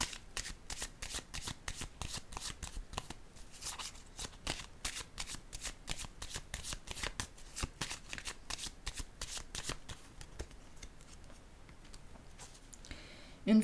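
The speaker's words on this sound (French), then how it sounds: "Je vais déposer une carte sur la fille de joie." A card is placed in a video game, heard as a rapid run of crisp clicks and card-flick sounds in steady succession, with a sharper thump at the end.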